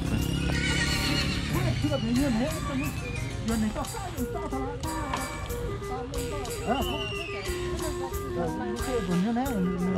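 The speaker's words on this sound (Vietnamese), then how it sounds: "Đây là một con ngựa khá là to đẹp." A large horse at the Bac Ha horse market in northern Vietnam whinnies repeatedly in loud, wavering calls, with hoof clops and market chatter, while a person talks nearby.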